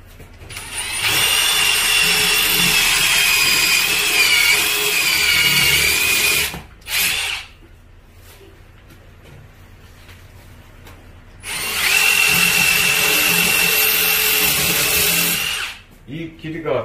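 Power drill fitted with a 3.5 mm bit boring through wall tile into the concrete behind it while mounting a towel rail, two loud sustained drilling bursts separated by a short blip and a quieter pause.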